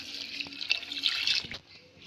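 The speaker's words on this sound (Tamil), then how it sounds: "ஒரு 2-3 டம்ளர் தண்ணி ஊற்றிக்கோங்க" Water poured from a tumbler into a cooking pot of green gram lentils with salt and turmeric, a short splashing trickle that runs steadily, then cuts off near the end.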